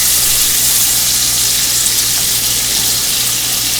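Bacon frying in a greasy pan, a loud, close, continuous hissing sizzle with no talk over it.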